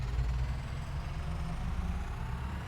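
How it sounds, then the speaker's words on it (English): A small farm tractor engine idles steadily at close range, a low, even throbbing chug with no voices over it. "Mind you, I really love the sound of this tractor."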